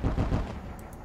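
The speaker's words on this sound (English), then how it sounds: "Fire point defense guns." Point defense guns firing in the space strategy game Sunrider: a brief, heavy burst of rapid low booming shots that dies away into a quieter tail with a couple of faint high blips.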